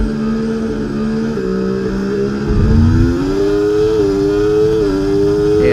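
Onboard a Formula 1 car at Zandvoort in EA Sports F1, running just behind a McLaren: a loud, close, steady high engine whine that dips and climbs through gear changes.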